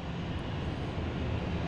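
A brand-new Delta Boeing airliner passes at an airport, its engines producing a steady, broad roar that holds at an even level throughout with no voices over it.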